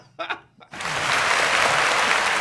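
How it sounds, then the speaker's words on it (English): A brief voice, then a sudden burst of crowd applause that swells and holds steady, dense and loud, from many hands at once. "round of applause to her"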